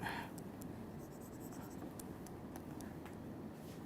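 A pen writes on a board during a signal-processing lecture, giving faint, quiet scratching with light intermittent ticks and taps over a low room hiss.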